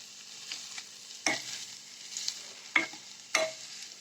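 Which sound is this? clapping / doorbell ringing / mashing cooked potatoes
mashing cooked potatoes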